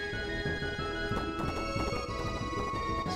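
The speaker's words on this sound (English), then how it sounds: "So we're chasing the horse Dio." Galloping horse hooves in the video game Live a Live, a rapid, steady clip-clop rhythm under sustained game music, fairly loud and continuous throughout.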